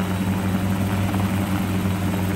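A small two-seat Kompress helicopter drones steadily at a moderate distance over an airfield, its rotor and engine making an even, continuous whir.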